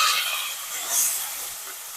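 Raw onion hitting hot oil with whole spices in a village-style chicken curry pan, giving a steady broad sizzle and hiss that swells briefly midway, close and moderately loud with no talking.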